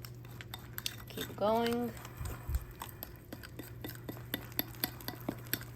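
A utensil stirs gluten-free, dairy-free crêpe batter in a bowl, making quiet scraping and a run of light clinks at a steady rhythm, with a brief spoken phrase partway through.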